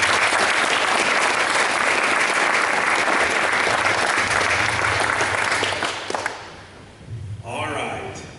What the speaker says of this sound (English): if you would please join me in a round of applause